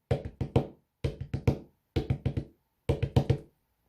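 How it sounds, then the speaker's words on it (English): Four groups of sharp knocks from a Doctor Who episode, each group a quick four-beat rhythm of close, crisp raps with short gaps between groups, clear and without talk. "the 4 knocks are back"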